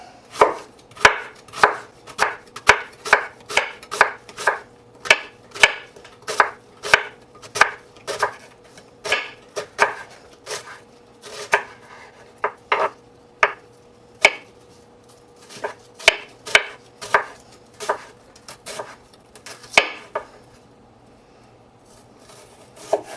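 Half an onion chopped with a knife on a cutting board, a steady run of sharp, close, evenly paced chops with short pauses, slowing and thinning toward the end.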